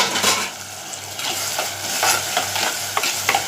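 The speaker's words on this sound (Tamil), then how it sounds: "ஒரு 2 பச்சை மிளகா, அதையும் போட்டுக்கிறேன்." Green chillies and tomato fry in a pan with a loud, close sizzle while a spatula stirs and scrapes repeatedly against the metal in a loose rhythm.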